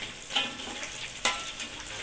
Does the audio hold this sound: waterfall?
no